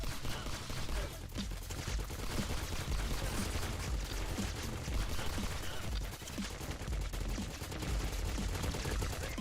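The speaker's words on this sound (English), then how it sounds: "I have to do my usual thing and shoot everyone." Gunfire in the shooter game Agent 64, repeated shots popping steadily through a dense, busy game soundtrack across the whole stretch, loud and constant with no clear pauses.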